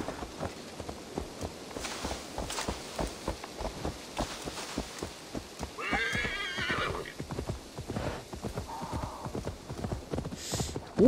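Horse hooves clip-clop in a steady rhythm, joined partway through by a loud whinny and later a shorter one, with no talking, in the video game Assassin's Creed Valhalla.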